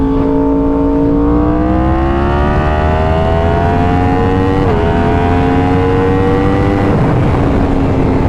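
A 1000cc motorcycle engine revs loudly and close, its pitch sweeping up and holding, dipping briefly, then climbing again in a continuous roar with no talking.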